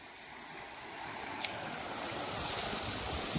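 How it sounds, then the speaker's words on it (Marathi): Water gushing from a GK 5 HP solar-powered pump on a farm, a steady broadband rush and splash that holds a constant level throughout, with no talk over it. "हा जीके 5 HP चा पंप आहे आपल्या समोर."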